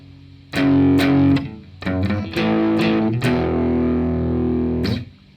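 Distorted electric guitar power chords ring out in a short riff, a few sustained chords with brief pauses, loud and gritty with no talking.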